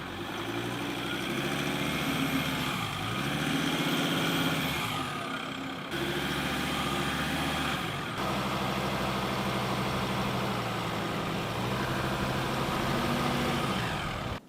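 A 4x4 stuck in beach sand runs its engine continuously, with a steady mid-low rumble that rises and falls as the revs change. A brief drop in the sound breaks it up partway through, and no voices are heard.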